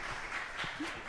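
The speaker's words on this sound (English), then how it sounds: "Please give Stephanie a warm round of applause" A live-show studio audience gives a warm burst of applause, a dense, steady patter of clapping hands that fills the whole moment.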